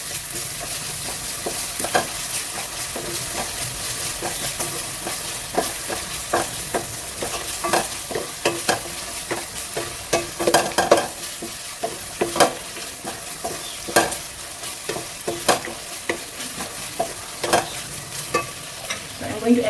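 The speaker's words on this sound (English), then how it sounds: "when your onions are translucent like this, add in your ginger garlic paste" Ginger garlic paste stirred into sizzling translucent onions in a pan for an Indian vegetarian curry, a steady frying hiss under repeated close scrapes of the spoon, with no voices.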